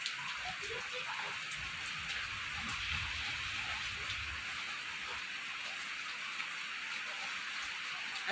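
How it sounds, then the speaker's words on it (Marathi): Steady hiss of rain falling, faint and continuous, with soft low rumbles underneath and no talking. "सकाळी सकाळी पावसाने असा कहर केलेला आहे"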